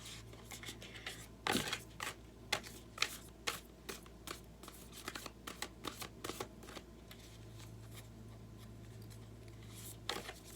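Oracle cards shuffled by hand, close and crisp, a quick run of riffling flicks and taps following one sharp slap at the start.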